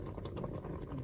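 Rice boiling in a pot over a fire by a river in the Sundarbans: a continuous busy bubbling and light pattering simmer, close and steady, with no one talking.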